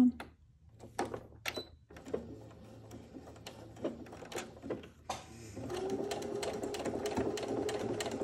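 A sewing machine topstitches a BONO fabric bag. Scattered close clicks and handling taps come first, then the machine whirs steadily and continuously for the last few seconds.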